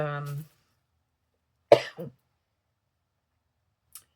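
A short vocal sound, then a pause, then a single sharp cough with a brief follow-up hack, close and clear, and a faint click near the end.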